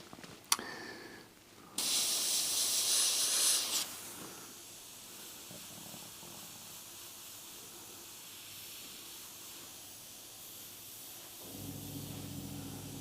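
An airbrush sprays paint in a loud, sharp hiss for about two seconds, then a softer, steady hiss continues, and a low compressor hum starts near the end.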